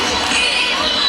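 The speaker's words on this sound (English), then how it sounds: "Crowd is pumping. Amazing atmosphere right here." Spectators roar in a steady, broad wash of crowd noise at the Fiji Coca-Cola Games 2014 athletics meet, sustained and fairly loud throughout the brief moment.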